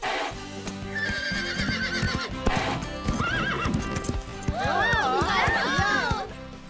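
Horses in the Horseland cartoon trot with rhythmic clip-clop hoofbeats while whinnies and neighs rise out over them, loud and close, mixed with spoken lines and light background music.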